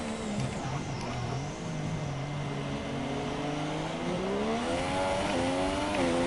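F1 2017 race car driven around a track with no assists: a continuous engine whine that rises and falls through revs and gear changes, held steady at moderate loudness.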